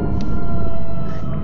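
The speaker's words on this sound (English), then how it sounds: "He's like an air raid siren." An air raid siren wails from a Roblox nextbot in a video game, a loud, steady sustained howl that fills the whole short moment with no talking over it.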